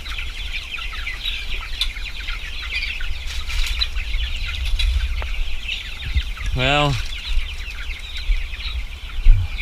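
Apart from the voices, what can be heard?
chickens clucking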